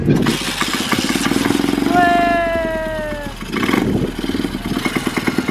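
A stunt motorcycle engine sputters to life and idles with a clattery, uneven putter close by, while people talk and exclaim over it.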